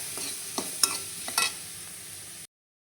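A spoon scrapes and taps through salted cooked rice with turmeric in a pan, a few soft clinks and stirring strokes over a faint sizzle, quiet and close, ending abruptly.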